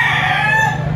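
A rooster crows at a busy poultry sale behind SM Lipa in Lipa City, Batangas, a single loud, steady crow sustained through the whole brief moment, close and clear.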